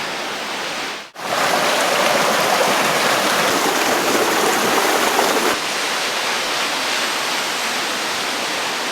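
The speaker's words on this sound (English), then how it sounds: "We can really hear the waterfall now." A waterfall at Marble Canyon Provincial Park in British Columbia roars steadily as a loud, continuous rush of falling water, with a brief dip near the start, heard close and alone without talk.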